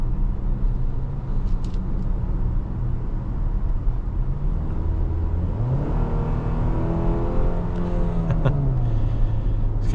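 A 2026 Kia Sportage accelerates on the road, its engine note rising in pitch over steady road and tire rumble, easing and then climbing again as the transmission shifts, heard from inside the cabin.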